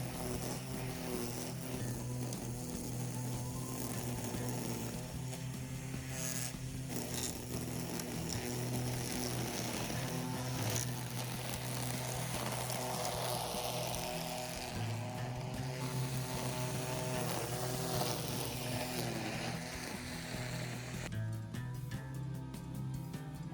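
A gas weed trimmer drones continuously at full throttle on an overgrown lawn after heavy rains, a loud, steady buzzing whine that holds for the whole stretch with only slight shifts in pitch.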